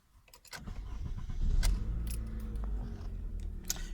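A car engine cranking and catching after an airbag light reset with a scan tool, preceded by faint key and interior clicks, then settling into a steady close idle.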